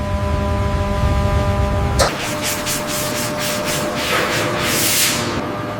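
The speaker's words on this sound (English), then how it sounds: "Wet sanding refines the paint for a true mirror finish." Car paint on a 1965 Rolls-Royce is wet-sanded by hand. A low hum gives way to rhythmic, rasping sanding strokes that repeat steadily and close by.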